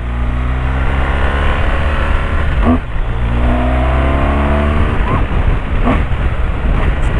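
A loud, steady motorcycle engine drone at speed with rising and falling harmonic sweeps as gears shift, continuous and close throughout, no talking.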